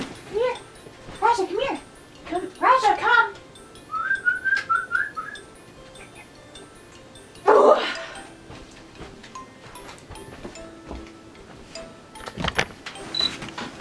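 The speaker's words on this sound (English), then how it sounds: "This is my new dog!" A standard poodle whines and whimpers in high, wavering cries, with a few sharper bark-like yelps, close by in a quiet indoor room.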